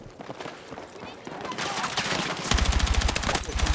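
Rapid automatic gunfire in a Battlefield 6 firefight builds from scattered shots to loud, dense bursts, with a voice talking over the shooting.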